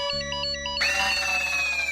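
A mobile phone rings with an electronic tone that begins with steady beeps and then jumps to a brighter, louder melody, alone without voices.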